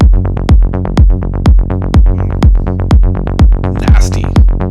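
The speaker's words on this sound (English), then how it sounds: "just a 16th note bassline pattern" A punchy synth bassline pulses in steady 16th notes with octave jumps, locked to a thudding four-on-the-floor kick drum, loud and dry with a brief noisy swell near the end.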